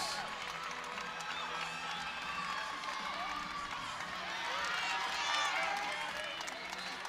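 A crowd at a college gymnastics championship meet, with UNH competing on bars, cheers and claps in a steady dense roar that swells toward the middle. Commentators' voices are faintly audible in the mix.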